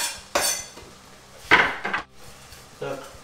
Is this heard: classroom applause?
no